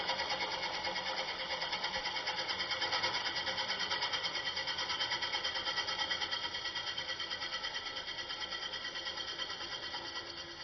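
A steady, continuous cutting hiss with a faint whir as a wood lathe gouge makes push cuts on a soft butternut bowl, with a slight fade toward the end and no talking.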